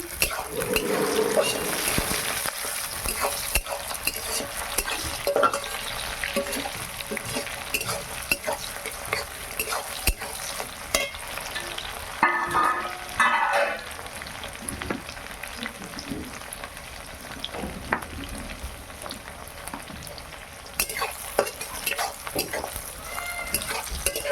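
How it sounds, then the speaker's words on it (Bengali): Chopped tomato fries and sizzles in a pan while being stirred, with a steady crackle and repeated scraping strokes running continuously at close range. "আমার টমেটো কুচি লাল লাল করে ভাজা হয়ে গেছে"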